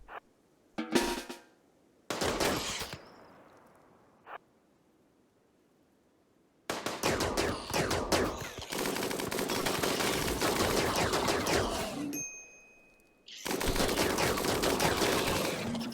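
Bursts of automatic gunfire in RimWorld, rapid loud volleys in separated clusters with quieter gaps between, the later stretch a long sustained barrage.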